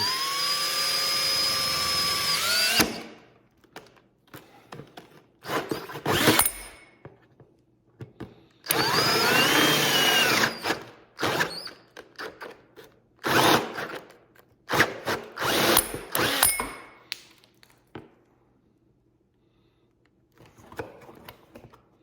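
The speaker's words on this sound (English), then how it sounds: "drill a couple holes in this thing." A power drill bores holes through the firewall of a 2023 Can-Am Maverick Sport Max, close and loud, with a long whine, a pause, then another long run followed by shorter bursts and quiet gaps.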